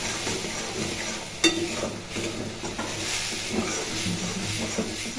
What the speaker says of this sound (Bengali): দুধটাকে দিয়ে ভালো করে নেড়ে চেড়ে নিতে হবে